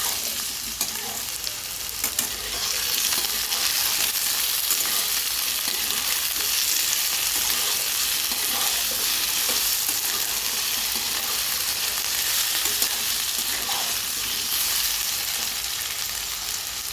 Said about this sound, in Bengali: এবার আলুটাকে ভাজা ভাজা করে নেব